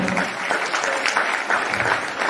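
A church congregation claps in praise during a Christian worship gathering, a dense, sustained wash of many hands applauding at once, steady and fairly loud throughout with a faint murmur of voices underneath.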